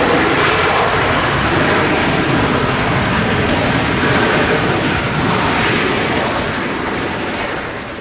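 Jet engines of a passenger airliner at Manchester Airport roar steadily and loudly for the full eight seconds, a dense continuous rumble that eases off slightly near the end.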